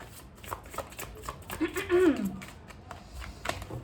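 Tarot cards shuffled by hand in a steady papery riffle, with a fuller burst near the middle and a soft voice faintly in the background.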